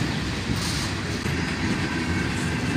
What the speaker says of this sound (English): the train, as you can see, has slowed way down